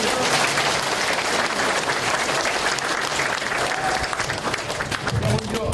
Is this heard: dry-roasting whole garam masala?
no